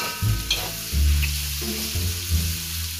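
Garlic, ginger, lemongrass and tomato sautéing in a pan, a steady close sizzle with bursts of stirring and scraping throughout, no voices.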